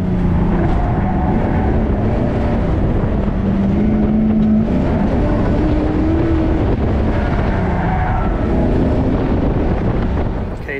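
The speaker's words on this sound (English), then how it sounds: "K1200 LT motorcycle engine," A car with a fiberglass body, Cadillac and LaSalle parts, an automatic transmission and a turbocharged K1200 LT motorcycle engine runs at a steady loud drone, its pitch wavering up and down, with wind buffeting the microphone.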